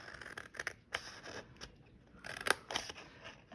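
Scissors cut a Christmas craft box with a run of close, crunchy snips in an uneven rhythm and a short quiet gap midway.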